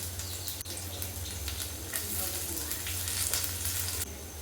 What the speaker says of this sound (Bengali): ভালো করে নাড়াচাড়া করে রসুনটা ভাজবো